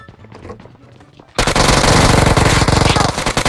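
Sustained automatic gunfire erupts in a ranked online shooter match, loud rapid bursts cutting in abruptly after quieter footsteps and game ambience.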